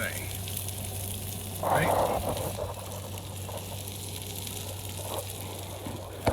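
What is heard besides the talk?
chicken sizzling on a grill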